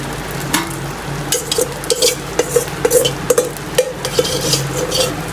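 Leftover rice being stirred in a pan for egg fried rice: a steady run of spatula scrapes and clatters against the pan over a soft sizzle, close and continuous with no talk.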